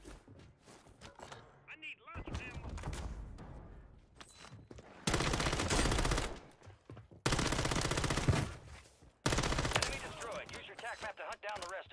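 Machine gun fire in Call of Duty: Warzone on Rebirth Island: three loud, dense sustained bursts follow each other with brief gaps, after a quieter stretch of softer game noise.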